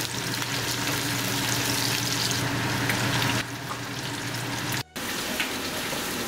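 Onion fries in a pan for chicken drumstick curry, giving a dense, steady sizzle that drops slightly partway through, then cuts out for an instant before resuming.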